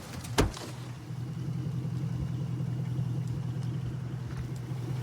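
A truck engine idling during a police traffic stop behind a motel, a close, steady low rumble that keeps running throughout, with a sharp knock or thump near the start.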